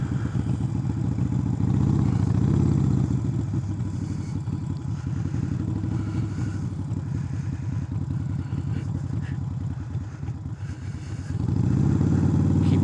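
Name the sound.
motorcycle riding slowly in first gear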